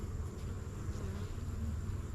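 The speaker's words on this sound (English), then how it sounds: "Very calm bees right now." Honeybees at an open hive during an early November inspection, a steady low continuous buzz filling the air throughout, with a faint high tone running above it and no talking.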